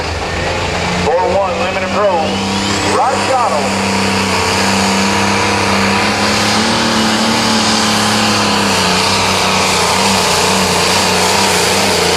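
Loud Limited Pro Stock pulling tractor engine roaring steadily throughout at a truck and tractor pull in Mound City, Missouri, with a brief rising rev early on and an announcer talking over it.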